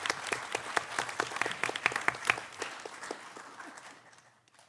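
A room of people at a school board of education meeting claps for a student, a steady patter of many hands that gradually thins and fades out at the end.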